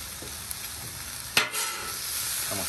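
Broccoli stirred into a shrimp stir fry on a Blackstone griddle: steady frying sizzle throughout with a sharp scrape of the spatula midway, close and unaccompanied by talk.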